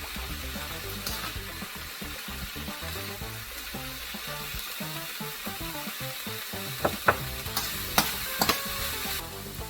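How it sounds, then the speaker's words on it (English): Nigerian fried rice with vegetables being stirred in a pan, steady loud sizzling and frying with continuous scraping and a few sharper clinks of the utensil near the end. "so now it's finally time to mix our fried rice"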